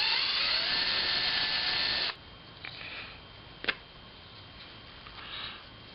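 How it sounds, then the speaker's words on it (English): A power drill bores out screw holes in a bracket for a wooden camera tripod, a steady high whine for about two seconds that stops abruptly, followed by faint handling clicks. "take on the bracket and drill out these screw holes"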